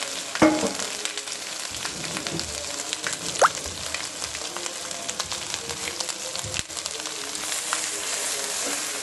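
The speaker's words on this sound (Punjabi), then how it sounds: "ਹੁਣ ਅਸੀਂ ਪਾ ਰਹੇ ਹਾਂ ਅਦਰਕ ਅਤੇ ਲਸਣ ਦਾ ਪੇਸਟ ਇਸ ਨੂੰ ਅਸੀਂ ਚੰਗੀ ਤਰ੍ਹਾਂ ਭੁੰਨ ਲਵਾਂਗੇ" Ginger and garlic paste roasts in a hot pan for a vegetable pickle, giving a dense continuous sizzle broken by a few sharp spatula scrapes and pops.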